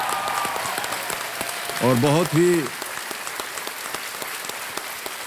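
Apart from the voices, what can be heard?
studio audience applause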